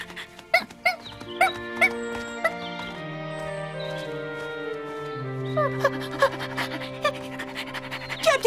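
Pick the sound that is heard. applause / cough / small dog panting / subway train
small dog panting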